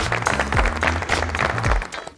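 A studio audience applauding for a player at a Mafia game night, brief close clapping that swells and fades over about two seconds.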